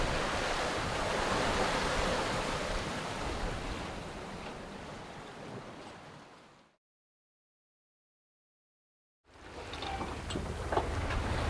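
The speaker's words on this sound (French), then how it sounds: "Juste l'océan." Open-ocean waves and rushing water heard from a sailing boat far offshore in light wind, a steady broadband wash with wind noise for about six seconds, a dropout to silence, then the sea sound returning.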